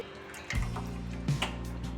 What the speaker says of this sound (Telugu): ఇందులోకి ఇప్పుడు ఒక గ్లాస్ నీళ్ళు వేసుకుంటున్నాను